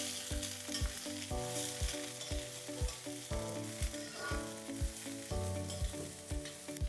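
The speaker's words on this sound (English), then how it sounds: "Now add the French beans. Just mix this well." French beans sizzle in a hot pan of oil with red chilies and curry leaves, a steady loud frying hiss broken by regular clanks of stirring, close up with nobody speaking.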